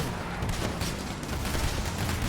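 AK rifle fire in the video game Payday The Heist comes as a dense, loud burst of gunfire with continuous rapid shots and booming impacts over roughly two seconds, with no speech.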